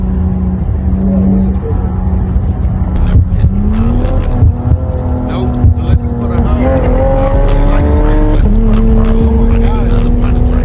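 A car with a big gas tank at a late-night car meet revs and shifts, its engine tone stepping through rising and falling pitches, loud and close, with voices talking over it.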